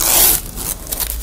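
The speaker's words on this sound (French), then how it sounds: "j'enlève le scotch" Adhesive tape peeled off a car windscreen being treated with a water-repellent coating, a sharp tearing rip at the start easing into softer scraping and rubbing, close and alone.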